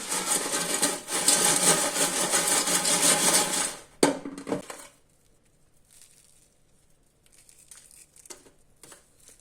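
Loud, dense crunching of crispy air-fried chicken strips for several seconds, then it stops abruptly, leaving quiet with a few faint scattered crackles.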